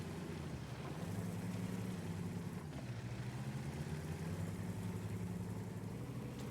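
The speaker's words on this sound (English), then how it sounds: "I love the engine sound effects on this tank." Tank engine from a tank video game with an E75 heavy tank, a low, steady rumbling drone that runs continuously at a moderate distance, with no talk over it.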